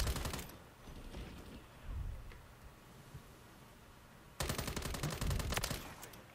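Automatic fire from the BAS-B rifle in Modern Warfare 3, with two dense bursts of rapid shots, one at the start and a longer one near the end, and scattered game noise between them.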